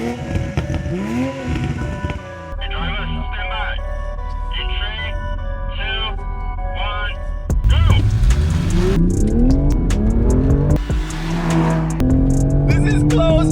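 A Toyota Supra and a BMW M2 Competition accelerate hard side by side in a drag race, engines revving and rising in pitch through several gear shifts, loud and close, with excited talk over the engine noise.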